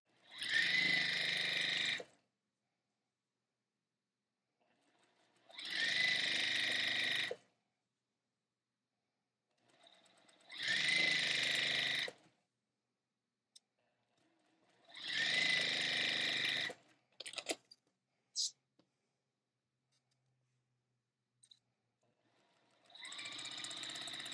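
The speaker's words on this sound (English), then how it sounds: "stitch a 1/4 inch away on either side of that line that we just drew" Sewing machine stitching a quarter inch either side of a drawn line to make half square triangle quilt units, running in five steady bursts of a few seconds each, separated by silent pauses and a few small clicks.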